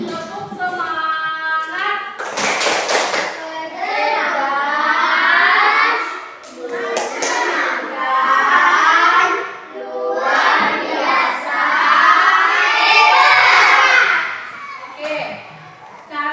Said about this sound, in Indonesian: Karena kita sudah kerja kelompok, kita tepuk semangat dulu.